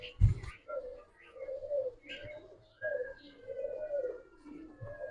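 Giribaz pigeons coo in a series of soft, repeated low calls, about six phrases over five seconds, with a sharp knock at the start and faint background sounds.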